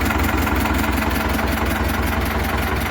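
An Eicher 364 tractor with a Ricardo engine and a new battery idles close by. It gives a loud, steady, even rumble with a regular low pulse, and no voices are heard.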